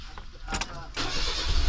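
A Suzuki Palette SW Turbo engine, newly taken apart and reassembled, fires up for the first time. A brief starter crank catches about a second in, and the engine settles into a loud, close idle, with voices nearby.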